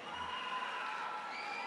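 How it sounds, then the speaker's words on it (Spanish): A distant audience at a university Latin dance event cheers and applauds, a steady wash of clapping and shouting heard faintly from far off. "Que se escuche el aplauso"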